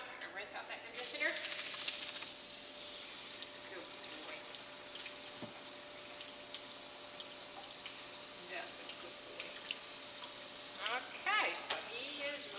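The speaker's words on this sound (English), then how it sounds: "Okay, I rinse out that conditioner." Running water rinsing conditioner from a Papillon dog's coat during a bath, a steady hiss and splash throughout with brief clatters, while a person talks.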